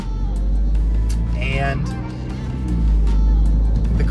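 Mini Cooper engine running with the active exhaust open, a throaty rumble that swells and dips under someone talking throughout, with a brief rising whine in the middle.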